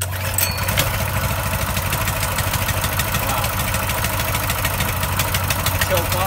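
A Coleman BT200X mini bike's small engine runs at a steady idle right after firing up, a loud, continuous close-up chugging with a faint rattle, holding even for the whole stretch.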